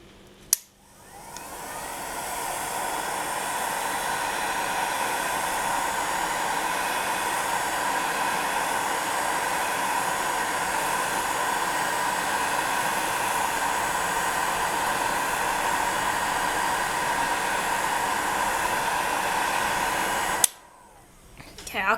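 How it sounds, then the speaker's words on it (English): A heat gun on its hottest setting blows steadily down onto metal leaf foil over polymer clay, a constant loud airy roar that holds for about twenty seconds before cutting off abruptly. "So I've got it on the hottest setting and I'm going to blast directly down onto it"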